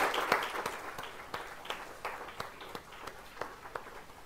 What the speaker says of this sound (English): if we could just give a big round of applause to Marcia for all her work.